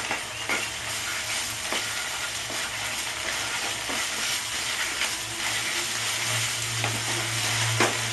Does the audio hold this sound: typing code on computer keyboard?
no